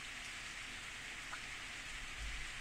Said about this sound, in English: raindrops start landing on my forehead. An evening shower.